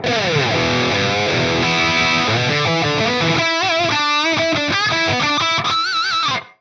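An electric guitar plays through a Fractal Audio mid boost drive model, loud distorted notes and sustained bends with a nasal midrange, ringing continuously before cutting off abruptly at the end.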